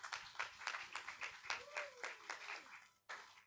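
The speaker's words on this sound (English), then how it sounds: "So give yourselves a round of applause." Scattered applause from a small audience at a completion ceremony, uneven claps in loose bursts that thin out and stop, with a brief swell near the end and faint voices underneath.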